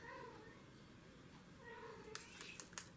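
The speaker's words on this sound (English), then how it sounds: "now they're crying to come back in" Cats wanting to be let back indoors meow faintly in the distance, a few soft cries over a low room hiss, with a couple of small clicks near the end.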